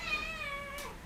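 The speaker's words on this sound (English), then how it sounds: "Sorry, that was my cat." A domestic cat lets out a single clear, drawn-out meow close to the microphone, its pitch gliding downward before trailing off.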